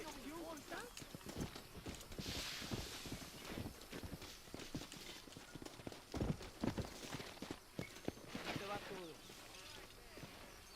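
Rhythmic clip-clop of horse hooves trotting steadily throughout in Red Dead Redemption, with a voice talking over the top.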